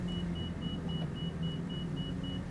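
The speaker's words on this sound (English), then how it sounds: "Why is it beeping at me?" A cockpit warning in Microsoft Flight Simulator during a descent: a steady high electronic beep repeating in evenly spaced pulses over a low constant engine drone, with no talk.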